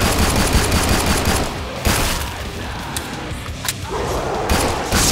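Loud, dense gunfire fills the scene in Killing Floor 2, with rapid machine-gun bursts, heavy thumps and booms rolling almost without pause on a hell-on-earth difficulty round.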